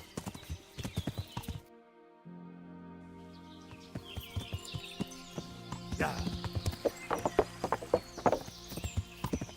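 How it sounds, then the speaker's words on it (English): Horse hooves clop on wooden planks in the Kingdom Come: Deliverance game, a steady run of sharp, close strikes over a music bed, with a brief exchange of talk. "I like how the horse sounds on the wood."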